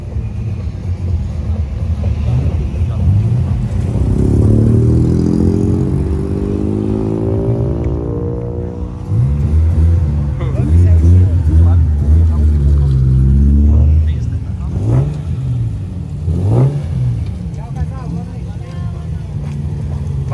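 A ROTA police car revs and accelerates away from a car meet, a loud rising engine roar that swells and fades, with people talking over it.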